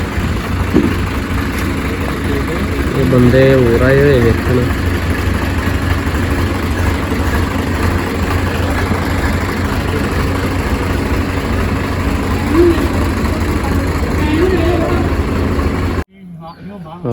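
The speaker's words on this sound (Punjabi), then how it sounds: "ਆ ਟਰੈਕਟਰ ਆਈ" A Swaraj 855 tractor engine idling nearby, a steady low chugging throb running under people talking, cutting off abruptly at the end.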